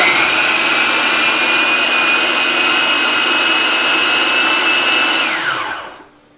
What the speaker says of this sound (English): now we've got our turkey in the blender